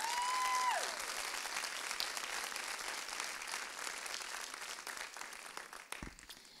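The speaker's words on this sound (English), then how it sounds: "So can we give them a round of applause?" A round of applause from a seated audience at a live event, heard faintly and at a distance as a soft, continuous patter of many hands that slowly thins out.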